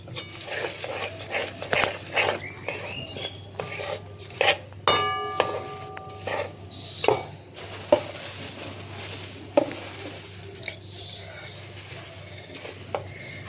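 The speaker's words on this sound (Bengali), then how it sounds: "এই যে একটু করে দেবো আর একটু করে নাড়বো" Puffed rice coated with jaggery is stirred in a large wok, with rustling, scraping and clinking of a utensil against the metal in irregular bursts, close by and with no talk.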